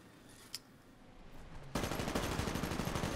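Titanfall gunfire erupts after a quieter lead-in, a steady rapid rattle of automatic shots, fairly close and continuous until the end.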